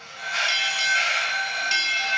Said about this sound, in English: the sugarcane train, with its haunting whistle,